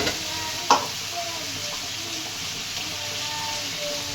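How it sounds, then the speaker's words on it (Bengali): Boiled chickpeas and spices fry in a pan, giving a steady soft sizzle throughout with one brief clink of a utensil early on, close and moderately quiet with no talking. "মশলাটা দিয়ে দিলাম, ভালো করে কষিয়ে নেব"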